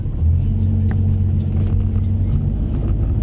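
A 1970 Dodge Challenger pulling away from a standstill, a close, loud, deep engine rumble that holds steady with a slight rise in pitch.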